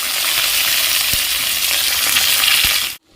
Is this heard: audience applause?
no